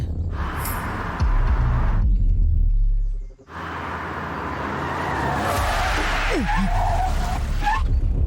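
A car in a Tamil TV drama scene skids to a stop with a loud broad rush of tire noise and engine rumble, briefly dropping out, then swelling again with a squealing slide.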